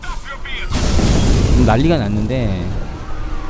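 A police siren in the video game Watch Dogs wails, rising and falling through a loud burst of noise, with someone talking over it in Korean and engine rumble underneath.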